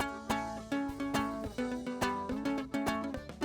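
A bajo quinto plays a short strummed and picked phrase with its low end heavily cut by EQ, leaving a thin, bright tone; rhythmic chord strokes sound close and fairly quiet, with no talking.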